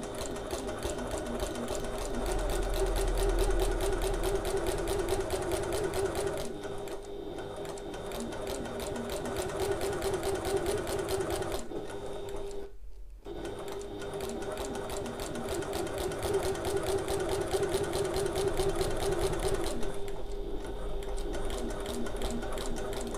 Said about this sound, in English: So I'm going to sew this at a 1/8 of an inch away from the edge.